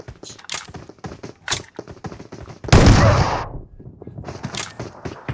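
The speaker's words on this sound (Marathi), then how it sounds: "त्यांनी पहिली गोळी चालवलेली." DBS and S12K shotguns fire in a video game: a run of sharp shots is followed by one loud, heavy blast in the middle, then more clipped gunfire and game noise. No voices are heard.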